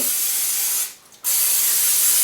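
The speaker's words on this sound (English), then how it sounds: "I use just a spray oil, olive oil spray, to grease the inside" Two close bursts of olive oil aerosol cooking spray hissing into a baking dish, broken by a brief pause between them.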